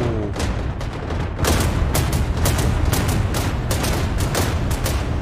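Vietnam-era unguided anti-aircraft artillery firing in DCS World, a loud, steady barrage of rapid cracking bursts that keeps pounding for several seconds with no talk.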